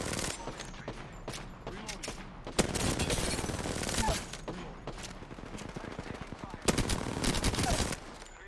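Rapid bursts of automatic gunfire in the video game Apex Legends, with sharp repeated shots in clusters and louder volleys, mixed with game effects and a voice talking over it.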